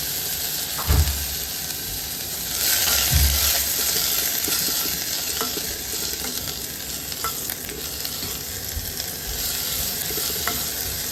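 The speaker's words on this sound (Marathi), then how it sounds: "कांदा परतून घ्यायचा आहे." Onion sautéing in a little oil for veg dalcha, with a steady broadband sizzle throughout and occasional stirring clatters and scrapes of a utensil against the pan; no talking.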